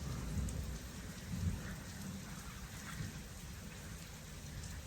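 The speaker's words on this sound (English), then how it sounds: "We had some rain a little bit yesterday. We've had more today than yesterday." Steady rain falls outside with a low rumble of thunder beneath, faint and distant, with no voices.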